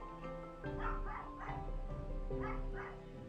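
A pet dog barks and yips indoors, five or six short, somewhat muffled woofs in an uneven cluster over a low background hum.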